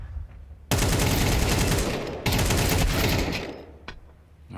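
Dense, loud bursts of rifle fire from a Counter-Strike match at a major esports tournament, a continuous rattling barrage that breaks off briefly and then resumes before tapering away.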